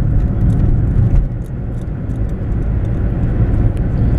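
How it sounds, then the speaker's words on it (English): A steady broadband rumble of cars queued along a street near seaside churches on Palm Sunday, continuous traffic and engine drone with no voices. "The cars all line up."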